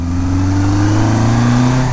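A 1970s Kawasaki KZ1000 motorcycle engine runs with a steady, close, loud mid-pitched drone that rises slightly in pitch toward the end, like a light rev building.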